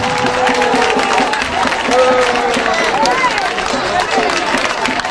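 An audience at a political investiture ceremony claps and cheers in a sustained wave of applause, with a voice talking over the crowd.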